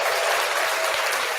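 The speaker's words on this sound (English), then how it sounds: "You definitely gotta give her a hand clap up in here." An audience claps at a live show in a short, dense burst of applause, moderately loud and without talk over it.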